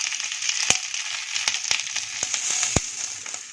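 Sliced capsicum and onion sauté over a low flame, a thin crackling sizzle punctuated by several sharp clacks of a spatula against the pan.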